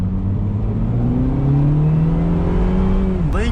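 A 2021 Mini Cooper S Convertible in sport mode revs hard, its exhaust rising in a loud, continuous drone that climbs steadily in pitch before dropping abruptly near the end.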